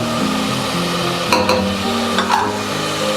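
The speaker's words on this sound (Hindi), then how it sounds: "तीन 4 मिनट के लिए हम इसको भून लेंगे" Mutton paya frying in a pan, a close steady sizzle with a couple of sharp spatula scrapes and clatters midway, loud and without speech.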